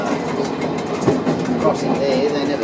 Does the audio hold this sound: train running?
yes